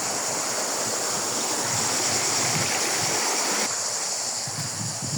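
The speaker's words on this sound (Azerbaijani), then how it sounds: "Təbii bulaq var." Water from a natural spring flows with a steady, broad rushing hiss outdoors. The sound is close and continuous, with a slight wind-like texture and no talking.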